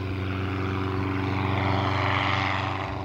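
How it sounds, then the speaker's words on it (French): A light propeller tourist plane takes off from an airfield, its engine drone steady and loud with a constant propeller hum and no voices. "Un avion de tourisme décolle de l'aérodrome de Cahors."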